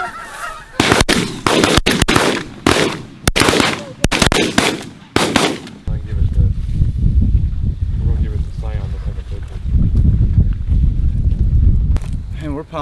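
Several close, loud shotgun blasts fire in quick succession during a goose hunt in New York, then geese honk and voices talk over wind noise.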